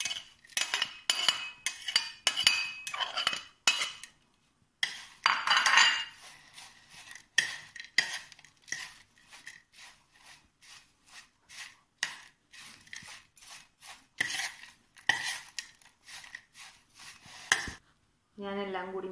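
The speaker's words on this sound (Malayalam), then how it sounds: "അപ്പോൾ നമ്മളുടെ ഇറച്ചി പൊരിച്ചതും പിന്നെ ഈ സവാള മുപ്പിച്ചെടുത്തതും വേപ്പിൻ്റെ ഇലയും കൂടി മിക്സ് ചെയ്യാം" Fried beef, sautéed onion and curry leaves for a beef vada filling are mixed with a spoon in a bowl, a long run of close, rapid clinks and scrapes with brief pauses.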